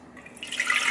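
Water pouring into a bread machine pan, a short splashing trickle that builds from quiet to a steady close pour within a second.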